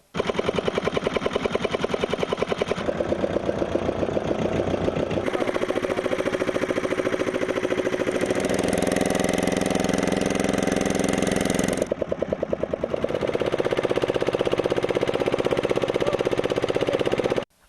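Engine boats race at a Sankranti boat festival, their motorboat engines making a loud, continuous rattling roar that shifts in pitch and intensity across several stretches, with no pauses.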